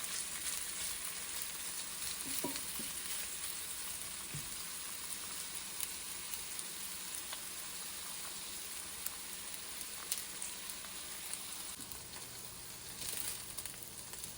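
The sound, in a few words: meatballs sizzling as they brown in a pan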